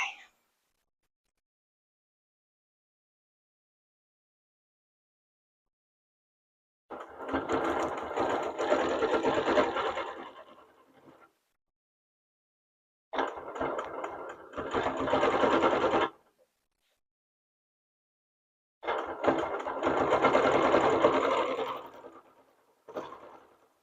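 Sewing machine stitching in free-motion ruler quilting on a Carolina Mingle quilt, three steady several-second runs separated by quiet pauses, close and clear with no talk over it.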